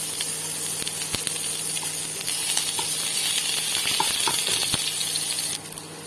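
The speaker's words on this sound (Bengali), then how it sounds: "এবার এর মধ্যে পেঁয়াজ কুচনো আর রসুন কুচনোগুলো দিয়ে লাল করে ভেজে নেব" Chopped onion and garlic frying in oil for a Bengali hilsa fish curry, a steady close sizzling hiss scattered with small pops and crackles that eases to a softer hiss near the end.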